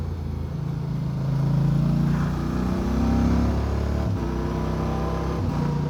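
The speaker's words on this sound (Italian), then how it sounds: "Prova di ripresa dal minimo." Moto Guzzi Stelvio 2024 motorcycle pulling away from idle, its engine note rising in loud, steady revving pitch sweeps with a brief gear-change dip around the middle, heard close and without talk.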